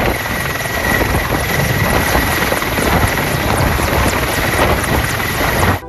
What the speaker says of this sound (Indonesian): Wow, helikopter militer.